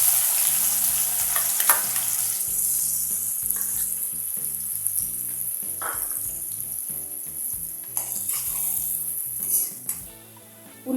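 Onions frying in a pan for a fish curry, with a steady crackling sizzle under repeated clinks and scrapes of a utensil stirring against the pot.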